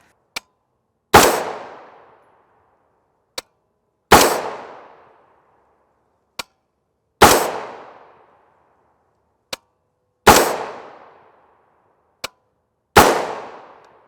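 A 20-inch rifle with a 1-in-7 twist chrome-lined FN barrel fires 5.56 PMC M193 rounds outdoors, five loud sharp shots spaced about three seconds apart, each ringing out, with a faint click before each report.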